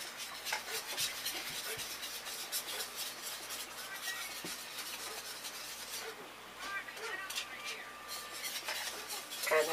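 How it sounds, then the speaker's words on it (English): Whisk scraping and clinking around a pan of melting cream cheese Alfredo sauce, a quiet, busy rhythm of metal strokes close by, with some soft speech mixed in. "All the cream cheese has completely pretty much melted down. Still some bits and pieces, but you can keep whisking."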